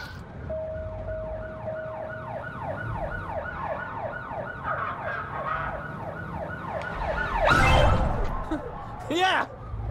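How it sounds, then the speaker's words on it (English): Wailing emergency-vehicle siren in the driving game Blind Drive, a rising and falling sweep that holds steady and fairly close, with engine rumble beneath and a loud crash or impact near the end. "I'm hearing the sirens"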